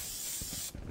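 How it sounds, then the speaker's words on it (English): Pro Spray aerosol being sprayed onto a sublimation transfer for a throw blanket, a short close hissing burst that cuts off abruptly. "So a little bit of Pro Spray."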